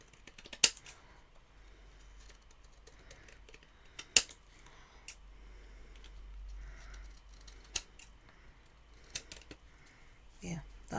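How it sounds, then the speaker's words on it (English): Scissors snip through card stock while trimming a shiny layer for a handmade card, a few sharp, sparse cuts close by, quiet between them, with light handling noise. "So I'm just going to cut off here, so it's a tiny border as well."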